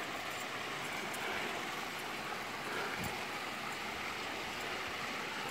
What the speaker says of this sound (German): Jetzt hörst du es schon plätschern.